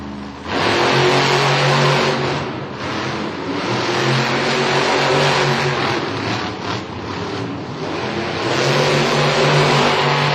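The engine of the Gravedigger monster truck revs hard during a Monster Jam arena race in Green Bay, Wisconsin, a loud, sustained roar that surges and dips with throttle changes throughout.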